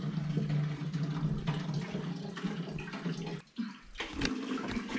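Water from a healing spring at Sighnaghi, Georgia, pours and splashes continuously and loudly close by, with a short dip in the flow just after the midpoint before it surges back.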